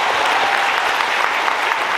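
A campus show audience at a university student performance event applauds an announcer, a steady, dense wash of clapping from a large crowd, close and sustained throughout.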